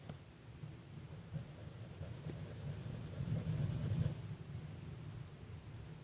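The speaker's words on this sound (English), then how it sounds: "I hear thunder." A faint, distant rumble of thunder swells low and broad midway, then slowly fades into quiet outdoor background noise.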